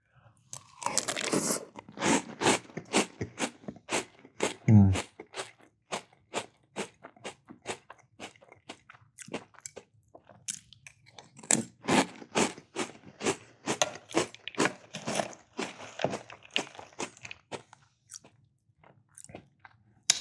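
Crunchy Captain Crunch Berries cereal chewed close to the mic during a cereal-eating session, a steady run of sharp, loud crunches in quick rhythm with a brief pause partway through.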